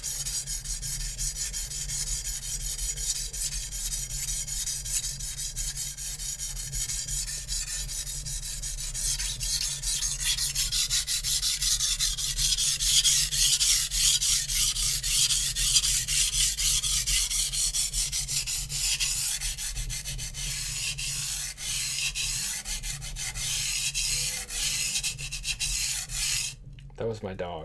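Zwilling Pro chef knife sharpened on a whetstone, a long run of steady gritty rubbing strokes, close and continuous, with a sharp knock near the end.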